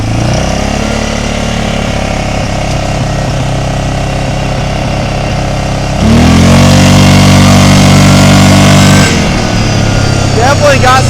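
The engine of an old, cheap 4x4 ATV running rough runs at a steady buzzing drone, then jumps to a louder, deeper roar for about three seconds partway through before settling back, heard up close with no talk over it.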